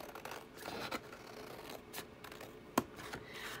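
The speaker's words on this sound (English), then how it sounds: "I'm just going to cut this down" Scissors snip through paper while a mason jar pocket is trimmed, a series of faint, quick cuts and rustles with one sharper click near the end.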